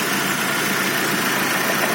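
A rebuilt GAZ Gazelle engine idles with slight detonation knocking, a steady, loud, close mechanical drone with no voices.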